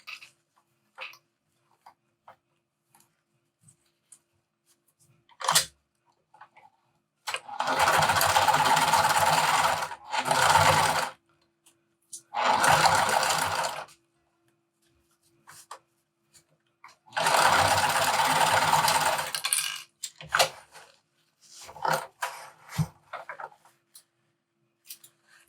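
A sewing machine bastes a zipper gusset to a bag lining in four distinct bursts of stitching, each a few seconds long, with quiet handling and clicks between runs.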